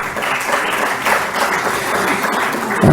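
Audience applauding a winning doctor at a Mexican urology college session, a dense, loud, steady clapping from a roomful of people lasting throughout.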